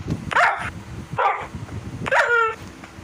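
A dog at a dog house gives three sharp barks, the last one stretching into a whimpering yelp, heard fairly close against a low background rumble.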